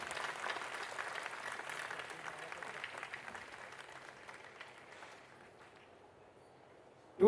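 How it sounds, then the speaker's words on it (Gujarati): An audience applauds the cast of a devotional stage drama at a religious gathering, a moderately distant crowd clapping that holds steady and then gradually thins out. "તો આ તમામે તમામ કલાકારોની ટીમ માટે જોરદાર તાળીઓ થઈ જાય"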